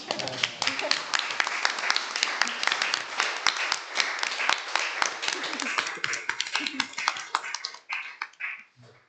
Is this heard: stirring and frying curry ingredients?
no